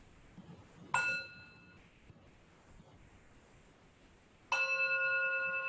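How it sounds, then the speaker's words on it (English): A meditation bell is struck twice to close a short meditation, each strike a bright, ringing tone with long sustained overtones; the second strike near the end rings on loudly over a quiet outdoor background with faint wind. "I'm going to invite one more sound of the bell just to close this very short meditation"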